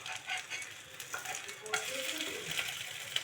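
Semolina batter roti frying in oil in a pan, with a soft, quiet sizzle under light scraping and clinking of a utensil against the pan, and a few brief sharper taps.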